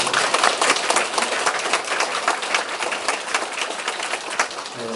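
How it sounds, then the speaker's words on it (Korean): A congregation at a Won Buddhist temple service applauds together in self-congratulation, a dense, sustained burst of many hands clapping at close range that fills the whole stretch, slightly easing toward the end. "우리 자축하는 의미로 서로 박수 한번 주십시오."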